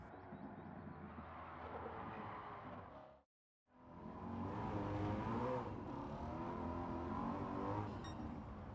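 A 2015 Ford Mustang GT Premium Fastback in Gran Turismo 7 drives a timed lap with a steady, loud engine roar. The sound cuts out briefly for a moment, then returns fuller and more strained, with no one talking.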